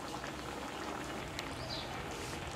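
Mogar with cream simmering on a low flame for a Rajasthani malai mogar dish gives a steady, faint bubbling sizzle that runs unbroken throughout, close and without speech.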